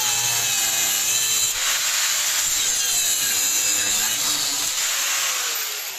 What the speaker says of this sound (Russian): поэтому мы прорежем вот так болгаркой, и тогда открутится намного легче.